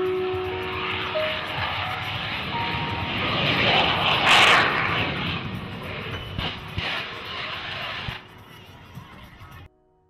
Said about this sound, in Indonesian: pesawat CF-18 Hornet